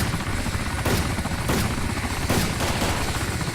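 Gunfire in DayZ: three sharp shots ring out at irregular intervals over a steady, loud droning rumble.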